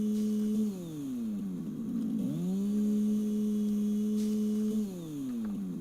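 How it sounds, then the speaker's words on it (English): A chainsaw in the video game Satisfactory revs up, drops in pitch and holds a steady buzzing drone, then winds down again near the end, with no talk. "Can you chainsaw grass?"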